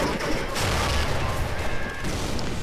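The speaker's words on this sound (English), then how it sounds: "Katyusha firing away madly." Katyusha rocket artillery, the Stalin organ, firing in a World War II strategy game, a dense, continuous roar of launches and blasts filling the whole stretch without pause.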